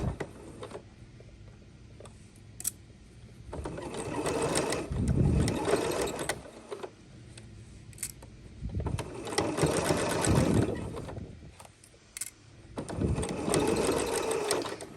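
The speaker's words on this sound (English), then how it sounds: "I'm going to sew over it on this side" A sewing machine runs a zigzag gathering seam through fabric in three steady bursts of fast mechanical stitching, with quieter pauses and small clicks between them, close and alone.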